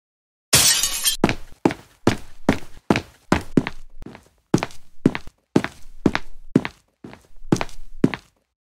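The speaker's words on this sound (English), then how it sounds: "Destroying this Xbox in 10, 9, 8, 7, 6, 5, 4, 3, 2, 1, and now." An Xbox console is smashed and destroyed in a series of about a dozen loud, sharp crashing blows. Each cracking impact is separated by a short silence, and the strikes come in an uneven rhythm.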